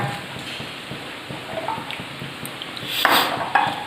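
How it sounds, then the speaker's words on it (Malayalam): Chopped banana being tipped into flattened rice and mixed in a dish, with soft scraping and stirring, a few light clinks of a spoon and a louder clatter of utensils near the end. "നമ്മുടെ ഈ പഴം എല്ലാം ചേർത്ത് കൊടുക്കാം."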